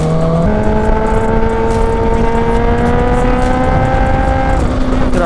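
A Kawasaki H2 motorcycle roars loud and close with a steady, strained engine note that climbs in pitch, then drops away near the end as it passes.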